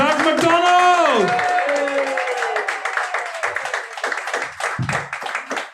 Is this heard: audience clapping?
yes